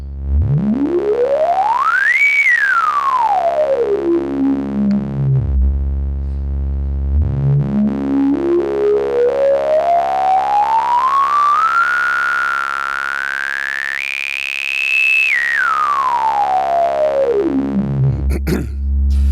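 A resonant synthesizer tone from an Intellijel Cascadia sweeps up and down through its harmonics, producing loud, whistling, singing overtones that rise and fall in long glides.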